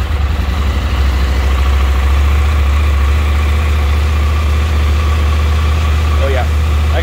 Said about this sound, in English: Let's go ahead and start the bike.